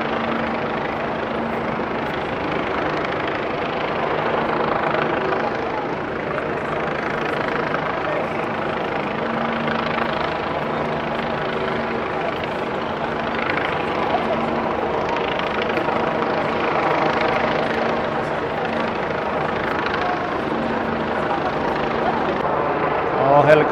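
A loud helicopter drones steadily overhead in Australia, its rotor thrum and engine whine constant throughout, with faint voices in the background.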